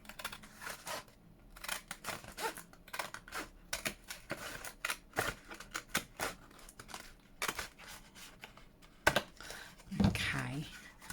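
Scissors cutting paper down a sheet with a square window for a junk journal flip-out, a run of close, crisp snips and rustles, with a short murmur of talk near the end.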